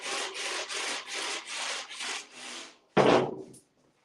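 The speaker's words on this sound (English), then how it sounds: "this rasp is fantastic" A hand rasp scrapes across ceiling drywall in seven even back-and-forth strokes, close and rough, followed by one harder, louder stroke.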